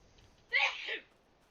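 A single sneeze in a farming simulation game setting, one sharp breathy burst lasting about half a second, moderately loud against a quiet background.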